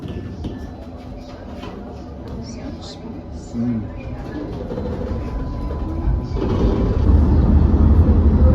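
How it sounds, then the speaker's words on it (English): An old tram in Riga, Latvia rumbles along with low rolling noise and rattling, growing louder toward the end, with voices talking over it. "there are still some of these older trams in operation"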